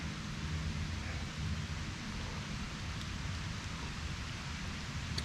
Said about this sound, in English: I'm a little distracted because the rain's starting to pick up.